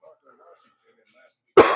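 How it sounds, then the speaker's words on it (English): After faint, quiet murmuring, a single sharp, harsh cough bursts out loudly and close by. "The cough I have right now"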